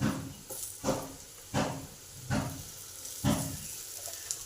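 Potatoes and mango pieces fry in a covered pan, making a steady soft sizzle with light, rhythmic stirring scrapes about every second.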